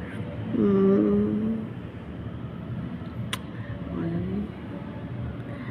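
Vehicles move slowly along a mountain road in traffic, with a steady low engine and road rumble throughout and a couple of louder swells as cars pass close by.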